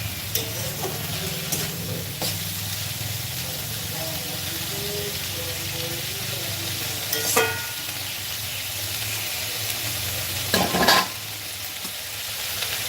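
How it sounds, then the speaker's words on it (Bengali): Water spinach (kalmi shak) frying in a pan gives a steady, moderate sizzle throughout, with a few scattered clicks and scrapes from stirring. "কি শাক রান্না করছো কলমি শাক ভাজা"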